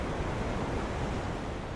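Lundbreck Falls waterfall pouring steadily, a dense, constant roar of rushing water heard up close with no talk and no change in level.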